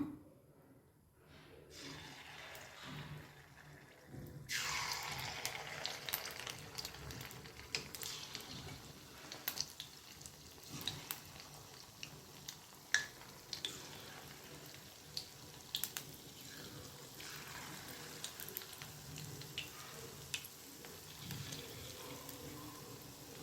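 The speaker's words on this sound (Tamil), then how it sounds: "இது எண்ணெயில் போட்டு பொரிச்சிக்கலாம்" Small balls of idli batter bondas frying in hot oil, a steady sizzling hiss that starts after a quiet moment and continues with crackling pops throughout, close and moderately loud with no talking.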